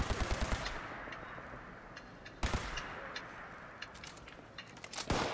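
Energy pistol fire in Fallout 76, a burst of rapid close shots at the start, then more sharp single shots and a loud blast near the end, with crackling fire effects between them.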